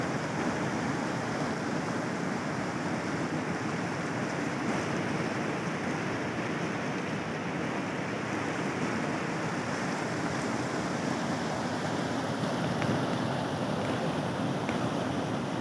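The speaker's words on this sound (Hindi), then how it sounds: "इब्राहिम ये पानी में भी बह जाएगा मालूम है।" Rushing river water in Manali roars as a dense, constant wash of noise, loud and close, never easing across the stretch, with no speech over it.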